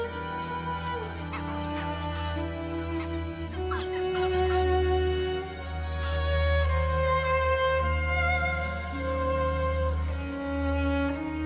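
A flock of ibis calls at a dusk roost on mangrove islands, with many overlapping honking, nasal cries over a steady low rumble.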